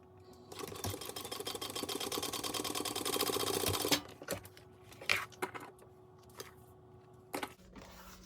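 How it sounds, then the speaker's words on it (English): Sewing machine top stitching a vinyl pencil pouch, a fast steady run of needle strokes for about three seconds, then stopping, followed by a few scattered clicks and handling knocks. "now I'm going to top stitch"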